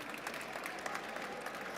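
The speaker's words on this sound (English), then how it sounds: "I feel like I want to clap you, but I don't have two hands." Applause from the audience at a live panel session on law and protection, a steady dense patter of many hands clapping throughout, moderately faint and without talk over it.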